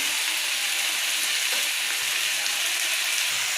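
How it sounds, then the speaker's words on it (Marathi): Tomatoes salted and frying with onion in a pan for butter paneer masala hiss in a continuous, bright, close sizzle that stays even throughout with no voices. "त्याला मस्तपैकी सॉफ्ट असं एकदम आपण फ्राय करून घेऊया"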